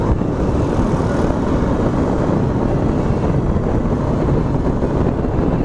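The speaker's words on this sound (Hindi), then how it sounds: "ये बजाज डोमिनार आगे जाते हुए" A Bajaj Dominar motorcycle rides along at speed, its steady engine drone mixed with heavy, constant wind rush over the microphone, loud and close throughout.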